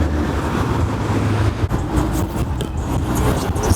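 A Toyota Supra in worn, rough condition drives along, with a steady broadband road and engine rumble heard from inside the cabin and no talking.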